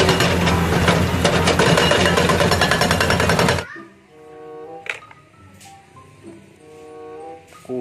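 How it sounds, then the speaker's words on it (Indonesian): Toy rock-breaker excavator: a loud, rapid mechanical rattling hammer sound plays for a few seconds, then cuts off abruptly, followed by quiet tones and faint clicks. "Mobil eskavator pemecah batu."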